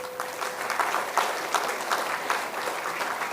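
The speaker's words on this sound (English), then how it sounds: "can you clap for yourself?" Students in an auditorium at a finance conclave clap steadily together, a dense wash of applause with no voices over it.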